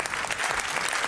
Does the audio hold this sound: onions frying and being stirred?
no